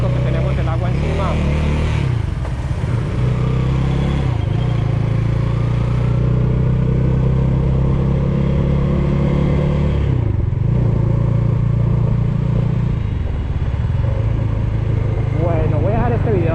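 A 2020 Dominar 400 UG 2.0 motorcycle engine runs steadily up close, its low throb holding with slight swells as someone talks over it throughout.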